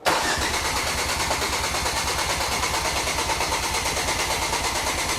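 A Ford Focus RS engine cranks over with a loud, rapid, regular whirring chug. It starts abruptly and keeps a steady rhythm throughout at close range.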